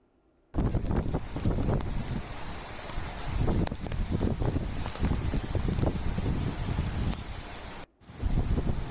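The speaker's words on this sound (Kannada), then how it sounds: "Wow, the first thunderstorm" Heavy thunderstorm rain falls in the Malnad region, a loud, steady broadband downpour with wind-like roar that runs continuously and drops out briefly near the end.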